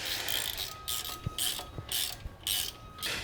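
Ratcheting wrenches, 9/16 and 14mm, turning bolts during assembly of a Tilmor Power Ox S-Tine, a quick rhythmic clicking in four or five bursts with brief pauses, close and fairly quiet.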